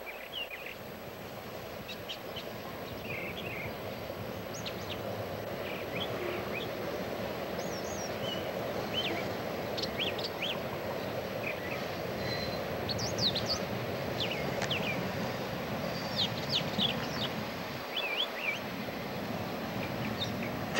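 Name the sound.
male bird doing a mating call outdoors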